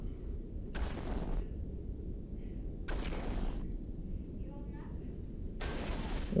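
A battleship fires at a frigate in a space video game: three separate booming shots, each a broad whooshing blast lasting about half a second, over a steady low engine rumble.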